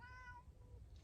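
A single soft, drawn-out cat meow at the start, faint and in a quiet room, trailing off into low background hum.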